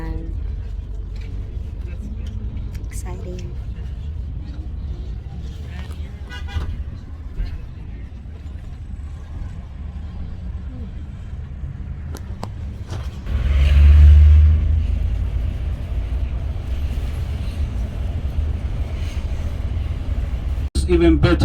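Tour bus driving through the countryside of Georgia, a steady low engine rumble and road noise running throughout, with a brief louder swell midway and people talking over it.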